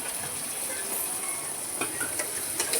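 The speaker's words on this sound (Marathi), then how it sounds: "मी कांदा टाकायचे" Onion frying in hot oil in a pan for bread pakoda gives a continuous close hiss and sizzle, with a few light scraping ticks near the end.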